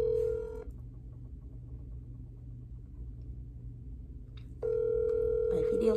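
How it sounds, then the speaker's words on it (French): Telephone ringing tone, loud steady electronic rings at the start and again near the end with a quiet gap between, over low background rumble. "La sonne, guys. La sonne."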